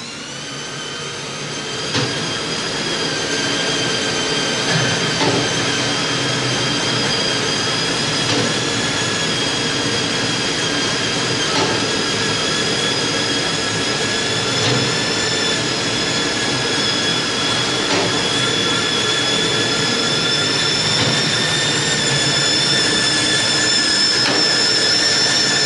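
A YFM-300SCA computer-controlled auto zipper yarding machine runs continuously, a steady mechanical whine with sustained high tonal hum and faint periodic clicks, close and unbroken throughout.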